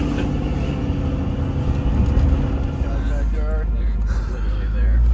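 Land Rover Discovery engine droning loudly off-road, a steady low rumble that holds throughout, with people talking over it inside the vehicle.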